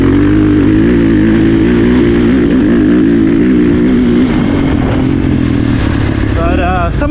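A 2023 KTM 450 SXF dirt bike engine drones loud and steady up close, with wind buffeting and a voice talking over it.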